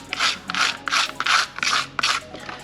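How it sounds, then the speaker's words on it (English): Abrasive scuffing of a surface to prepare it for Bondo filler, a series of short, close, harsh rasping strokes in an uneven back-and-forth rhythm. "Scratching this up so the Bondo will stick."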